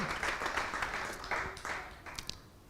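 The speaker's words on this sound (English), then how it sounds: "So please give a big round of applause to Raseshwari Mataji." Audience applause at a temple festival for an appearance-day celebration, a steady wash of clapping from a crowd that swells and fades in a few waves over a couple of seconds, moderately distant.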